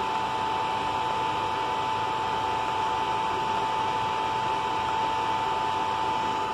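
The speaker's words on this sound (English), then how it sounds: "So you will see that the motor is going to move." Motors driven by Siemens Sinamics S120 drives running in synchronization: a steady, even whine with a sharp constant tone over a broad hiss, unchanging throughout, no voices.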